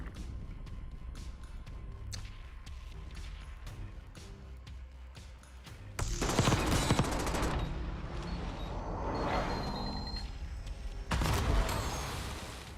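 Shotgun fire in a video game, with sparse shots early on, then heavy loud blasts and rapid gunfire erupting in two dense bursts.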